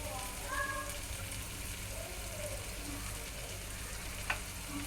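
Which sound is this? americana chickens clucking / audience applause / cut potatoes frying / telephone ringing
cut potatoes frying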